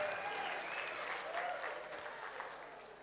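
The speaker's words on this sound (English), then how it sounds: "One more time, ladies and gentlemen, round of applause." Audience at an agri-entrepreneurship township summit claps in a steady round of applause, a dense even patter that fades slightly toward the end.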